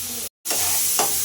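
Onions and shrimp fry in a pan, giving a steady close sizzle, broken by a brief dropout and a short stir scrape near the end.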